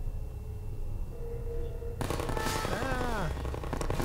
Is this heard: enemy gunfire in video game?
yes